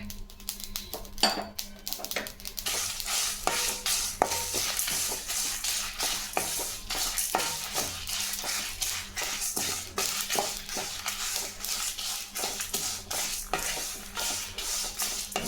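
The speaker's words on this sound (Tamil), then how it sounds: "நல்லா எல்லாம் பொரி பொரிஞ்சிச்சுங்க இந்த டைமில் கொஞ்சம் கறிவேப்பிலை போட்டுங்க" Curry leaves crackling in hot oil with popped mustard seeds for temple-style puliyodharai, sharp spitting sizzles and spoon-against-pan scrapes in an uneven rhythm, close and fairly loud with no talk.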